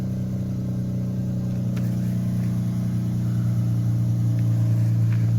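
A flood-damaged Dodge Challenger being rebuilt idles steadily just after starting up, a loud, close, continuous engine rumble with an even low drone and a few faint ticks, and no talking.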